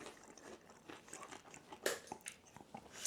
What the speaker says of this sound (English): Potatoes are lovely and crunchy,